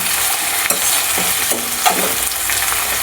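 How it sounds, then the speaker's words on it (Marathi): Chopped onion sizzling in hot oil in a pan for a Kolhapuri-style mutton and vajdi fry, with a steady frying hiss broken by a few scraping stirs of a spoon against the pan. "कांदा चांगला छान परतून घ्यायचा आहे लालसर होईपर्यंत."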